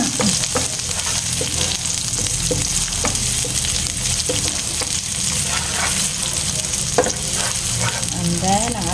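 Onions frying in a hot pan, a loud continuous sizzle with scattered scraping stirs and a few clanks of a utensil against the pan.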